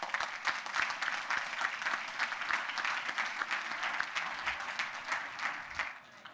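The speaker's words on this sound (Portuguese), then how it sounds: "E acho que por isso merecem uma salva de palmas." Sustained, dense applause from an audience at a university marketing conference in Portugal, steady and fairly loud across the whole stretch before tapering off at the end.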